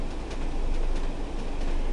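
A train in Train Sim World 2 runs with light braking applied, giving a steady low rumble and rolling rail noise with faint rhythmic knocks and a thin high whine, loud and unbroken.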